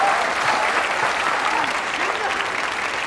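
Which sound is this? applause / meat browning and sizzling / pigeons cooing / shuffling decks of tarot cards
applause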